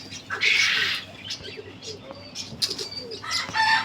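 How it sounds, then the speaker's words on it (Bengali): Pigeons nearby flutter their wings in bursts while being fed, soft coos and chirps coming and going; a voice speaks faintly underneath. "আমি আমার প্রত্যেকটি কবুতরকে এখন আস্তে আস্তে একটা একটু করে খাওয়িয়ে দেবো"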